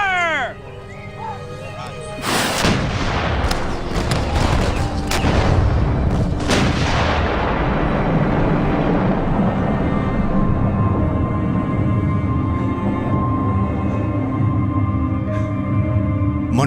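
Cannon fire at a French and Indian War siege reenactment: a sharp, loud blast lands after a few seconds of shouted commands, then a long rolling echo and rumble trail away, with a second report mid-way.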